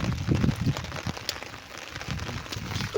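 Rain falling steadily in an outdoor setting, a continuous broadband patter with occasional louder drops and low rumbling thuds, moderately loud and without any talk.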